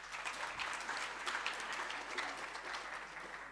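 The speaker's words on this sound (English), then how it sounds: "Give him another clap." Audience applause after a talk with President Thabo Mbeki, a steady crowd of many hands clapping continuously at moderate distance, even and unbroken, with no speech over it.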